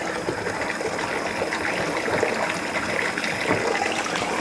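Tap water runs steadily and loudly at close range while food is washed thoroughly in a home kitchen, a continuous gushing splash without pause.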